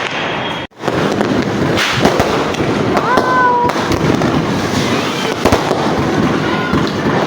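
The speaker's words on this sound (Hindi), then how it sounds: "तो हमारे पास जो थोड़े से मुर्गा छाप बचे हम वो जलाएंगे" Murga Chhap firecrackers go off during Diwali in a rapid, loud string of sharp cracks and pops close by, with brief whistling rising tones in the middle and a moment of silence near the start.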